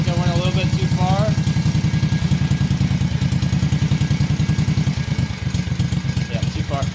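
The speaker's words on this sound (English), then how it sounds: "What you're going to want to listen for is it to sound smooth on both cylinders." Vintage two-cylinder engine idling close by with a loud, steady chugging beat and mechanical clatter, briefly revving, while a person talks over it.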